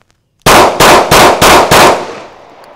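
A handgun fired five times in steady succession, each shot loud, sharp and close, with a short ringing echo trailing after the last report.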